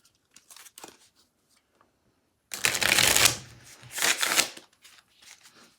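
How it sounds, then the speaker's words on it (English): A large stack of Nemo's War event cards is shuffled in quick, crisp riffling bursts, close and fairly quiet, with a few light card taps before and after. "make sure all your normal event cards, the biggest stack here, are shuffled up"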